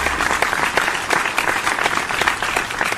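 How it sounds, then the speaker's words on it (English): An audience gives a warm, steady round of applause, with dense, even clapping throughout and a faint crowd murmur. "Everybody get a big, warm round of applause for Ms."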